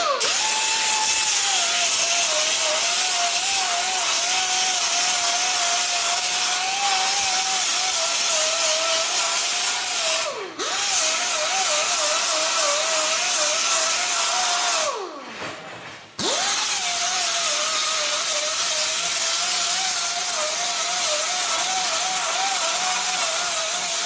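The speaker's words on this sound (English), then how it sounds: "I'm just going to take the grinder and lightly knock the heads off of that to make it nice and smooth" An angle grinder whines steadily while smoothing weld beads and edges on a steel campfire grill, its high pitch dipping as the disc bites and briefly dropping out twice before spinning back up, loud and continuous throughout.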